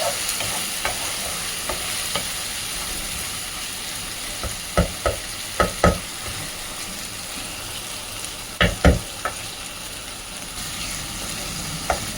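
Mutton liver fries in a pan under a steady sizzle, while a spoon scrapes and knocks against the pan in short clusters of sharp strokes.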